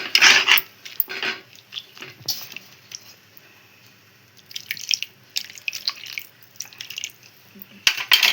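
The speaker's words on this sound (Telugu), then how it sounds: "కొంచెం వాటర్ వేసుకుందాం, ఎక్కువ అవసరం లేదు." Water poured or dripped into a pan of red lentil and potato curry in a home kitchen, with several bursts of splashing and dripping separated by quiet gaps, plus faint clinks of utensils.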